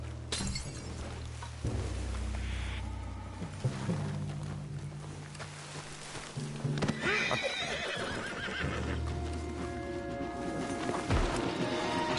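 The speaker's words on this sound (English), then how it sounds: "What's got this horse spooked" In Red Dead Redemption 2, a spooked horse whinnies loudly and its hooves clop, with a crash and varied game effects layered over a rumbling background.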